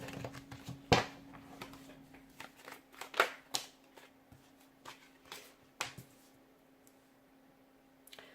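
Tarot cards being shuffled and slapped together in a quiet room, a series of soft papery flicks and snaps, loudest near the first and third seconds, with a faint steady hum behind.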